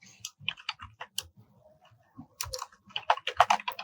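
Someone types on a computer keyboard while entering a Python command into a console, with close, crisp key clicks arriving in quick bursts separated by brief pauses, growing busier toward the end with no speech.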